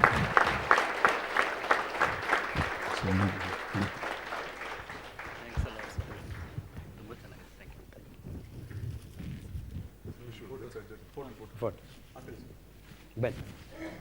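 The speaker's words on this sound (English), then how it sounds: "Big round of applause, gentlemen." A big round of applause from men at a health talk on millets, loud and dense for the first few seconds and then fading, with talk and scattered noises following.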